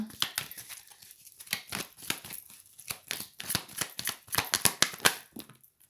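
Tarot cards being shuffled and drawn by hand, a rapid run of crisp flicks, snaps and papery riffles at close range, bursts of dense card slaps alternating with short pauses.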